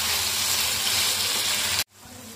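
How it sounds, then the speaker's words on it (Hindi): Boneless chicken frying over a high flame, giving a loud, dense, hissing sizzle that cuts off abruptly, leaving a quieter low background hum. "अब इसमें डालेंगे 250 ग्राम बोनलेस चिकन डाल के इसको अच्छे से भूनेंगे।"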